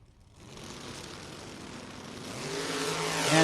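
A Chevelle door-class drag race car launches down the strip in a big wheelie, its engine roar building from a low rumble and rising into a loud, climbing blare as it pulls away.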